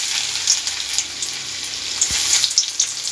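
Chopped ginger dropped into a little hot oil for a jackfruit Manchurian, sizzling loudly and close with a bright crackling hiss and a few small spits and pops.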